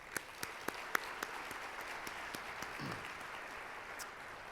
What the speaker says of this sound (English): how about one more round of applause for our honorees this morning?